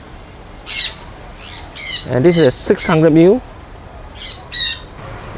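A bird squawks several times, loud and close, in harsh bursts with pauses between, while someone talks briefly over the calls.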